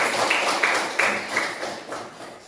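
A classroom of pupils claps for a classmate, a steady patter of many small hands, fairly close, with slightly louder swells before it fades.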